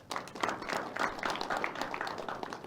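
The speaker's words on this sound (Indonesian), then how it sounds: "Boleh tepuk tangan kembali?" A burst of studio audience applause at a tax dialogue forum in Banten, Indonesia, many hands clapping together in a dense, sustained patter that carries on for a few seconds.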